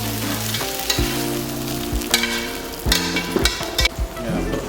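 Octopus sears in a hot pan, a continuous crackling sizzle close up, with sharper pops and clattering bursts as pieces are moved and turned, plus some tonal ringing from the pan.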